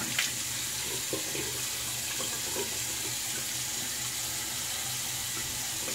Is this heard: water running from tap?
yes